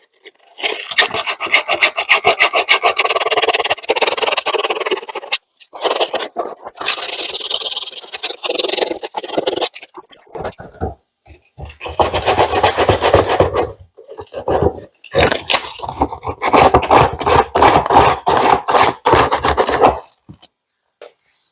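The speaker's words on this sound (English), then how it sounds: "I completed the sanding with the coarse sandpaper." Coarse sandpaper scraping back and forth on a cracked plastic car bumper in rapid strokes, loud and close, in bursts separated by brief pauses.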